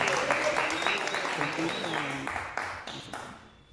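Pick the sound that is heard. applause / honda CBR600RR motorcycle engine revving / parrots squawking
applause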